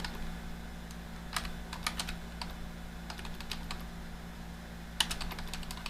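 Keys tap on a computer keyboard in scattered short bursts, close and fairly soft over a steady low hum, with a sharper keystroke near the end.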